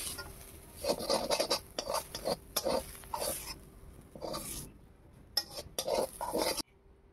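Saag leafy greens stirred and cooked in a pan for a home lunch, with a utensil scraping and clinking against the pan in irregular bursts, close up and fairly quiet, no one talking.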